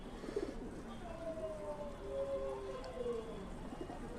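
A held female bird gives a soft, drawn-out tonal call, a few wavering notes lasting a couple of seconds, fairly faint against steady background noise.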